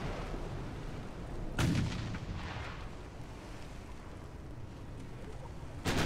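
Warship guns fire in a naval battle game, a Nassau against two Lord Nelson battleships carrying 12-inch guns: two heavy booming blasts several seconds apart over a constant rumbling background.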